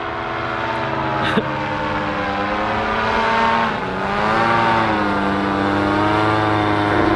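A Chevrolet Camaro runs on Gingerman Raceway, its engine a loud, sustained, droning tone that rises and shifts in pitch as it passes, close and continuous throughout.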